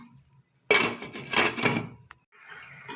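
A lid is set over a pan of egg curry gravy, giving a sudden loud clattering rattle of metal and cookware that lasts over a second, then a soft muffled sizzle continues.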